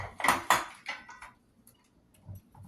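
Kitchen prep for a low-sodium homemade ketchup: a few sharp knife-and-board clacks and utensil clatter up front, then quieter scattered taps and a soft thud as ingredients go in, close and without talk.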